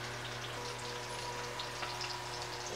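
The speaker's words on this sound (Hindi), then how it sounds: "अंडे को पलटते हुए मैं पका लूंगी" Eggs frying in a pan of oil on a gas stove for an egg masala curry, a steady, quiet crackling sizzle with no talking.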